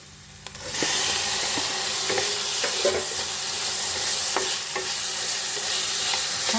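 Tomatoes land in hot oil with whole spices, cloves, black peppercorns and cumin, and a sudden loud sizzle bursts up and holds as a dense, crackling hiss, with scraping strokes of stirring on top.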